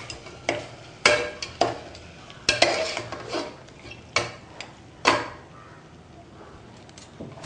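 Mutton pieces are stirred in a pan: irregular metallic scrapes and clinks of a spoon against the pan, a few sharp knocks among them, over a faint background.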